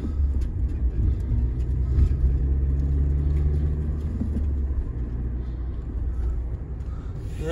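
A 2010 Nissan Cube with a manual transmission drives along, its engine droning low and steady inside the cabin, the rumble easing slightly partway through as it shifts; faint voices are present.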